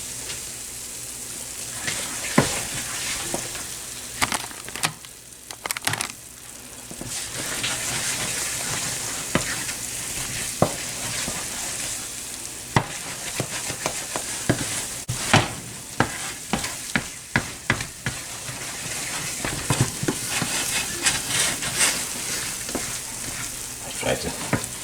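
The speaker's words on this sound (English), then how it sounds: "Now we're going to keep stirring and beating it until the sheen goes away." Coconut raisin fudge is stirred and beaten in a pan, with close, irregular scraping and spoon clacks over a faint bubbling sizzle across a long stretch, sometimes pausing briefly.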